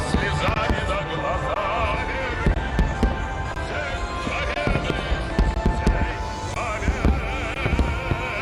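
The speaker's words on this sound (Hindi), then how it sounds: "मॉस्को में रेड स्क्वायर पर शानदार आतिशबाजी हुई" Fireworks bursting over Red Square in Moscow during a victory celebration, a dense, continuous crackle and rumble of pops and booms at a steady loud level throughout.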